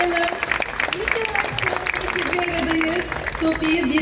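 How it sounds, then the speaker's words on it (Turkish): An audience applauds at the opening of the 93rd İzmir International Fair after a robot's appearance, a dense burst of clapping close and loud throughout, with some tonal sound and voices mixed in. "Kocaman bir alkışlarını uğurlayalım"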